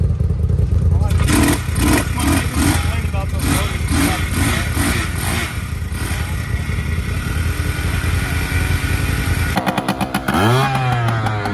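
A motorcycle at a swap meet is kick-started and revved hard, its loud, close engine pulsing in rhythmic bursts before a sharp blip near the end, with people talking over it.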